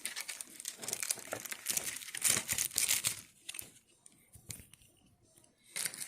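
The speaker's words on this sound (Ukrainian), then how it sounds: "Знімаємо цей пакетик." A thin plastic bag is pulled off a Grunhelm GR-227 rechargeable flashlight, making close, busy crinkling and rustling that comes in bursts and then fades into sparse handling noises.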